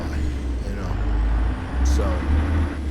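A heavy truck in American Truck Simulator brakes on its retarder, giving a deep, loud engine drone that swells and eases, with a brief hiss of air midway.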